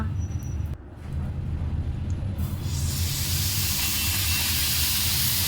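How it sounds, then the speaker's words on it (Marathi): A loud, steady steam hiss bursts up partway through as water hits a hot dosa griddle and keeps hissing strongly to the end. "थोडंसं पाणी टाकून कपड्याने या पद्धतीने तवा कोरडा करून घ्यायचा"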